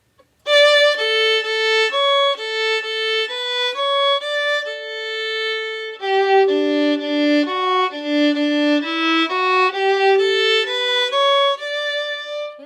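Solo violin plays the opening of the Chocolate Fiddle Song, a clear run of bowed notes in steady rhythm, close and bright, with no talking.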